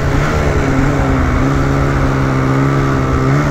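Polaris Matryx Assault 146 snowmobile engine revving hard and close, a loud continuous high-pitched whine with rising harmonic tones and no speech.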